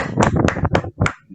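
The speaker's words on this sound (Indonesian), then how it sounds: "Tepuk tangan dulu buat Rizky." A small group in a classroom counselling session claps briefly, a few distinct close hand claps in an uneven rhythm over little more than a second, fairly loud with no talking.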